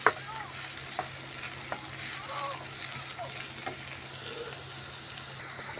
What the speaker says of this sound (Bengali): কেটে রাখা টমেটো কুচিগুলোও দিয়ে দিলাম এবং ভালো করে তেলের সাথে নেড়ে চেড়ে একটু ভেজে নিই।